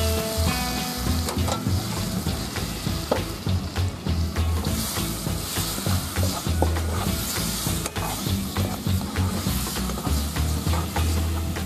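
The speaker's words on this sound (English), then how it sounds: "After the sugar mixture have changed color into a little bit yellowish, you can put in the banana." Banana slices sizzle and fry in a pan of caramelised sugar syrup, a steady, loud crackling hiss with small pops and stirring clatter, close up with no talk.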